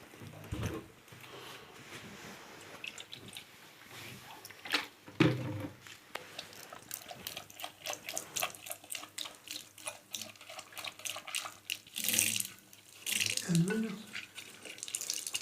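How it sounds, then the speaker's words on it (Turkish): Water sprays and splashes over a soot-clogged Bosch combi boiler fan while it is cleaned, a busy irregular hiss with dripping and spattering bursts, close by, with occasional talk in the background. "Evet şu anda fanımızı temizliyoruz"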